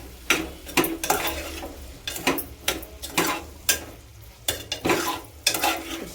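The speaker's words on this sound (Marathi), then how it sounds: "आता हे सगळं आपण परतून घेऊया" A spatula scrapes and stirs cauliflower in a pan in repeated sharp strokes over a soft, steady sizzle of frying, with no talking.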